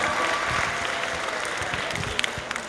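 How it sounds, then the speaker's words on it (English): Audience at a high school oratorical festival applauds steadily throughout, a dense, even wash of many hands clapping in a large hall, with a few sharper claps near the end. "Give yourselves a round of applause."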